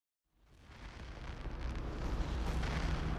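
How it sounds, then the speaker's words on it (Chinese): Fireworks burst at the Beijing Olympics opening ceremony as a deep, rumbling roar that rises out of silence and swells into a sustained, booming wash. "北京中轴线上绽放出一连串由烟花组成的脚印，北京奥运会正式拉开了帷幕"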